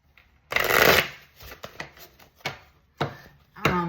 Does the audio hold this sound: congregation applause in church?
no